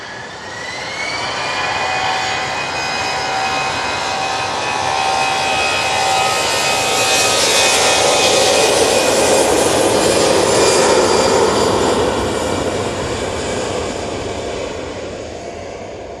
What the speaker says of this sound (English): let's go into this beautiful EasyJet. Now going off to Palma de Mallorca.